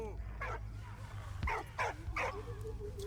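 A dog in the video game Valiant Hearts: The Great War gives several short yips and barks while being petted, faint beneath a low rumbling background.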